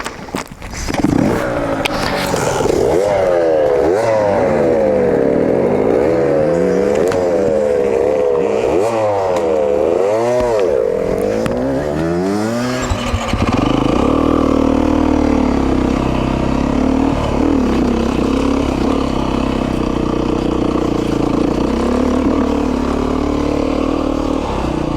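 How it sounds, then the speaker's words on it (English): Small dirt bikes held in first gear on a ride, engines loud and close, revving and wavering in pitch through repeated throttle swells before settling into a steadier drone. "These little bikes have to be in first gear."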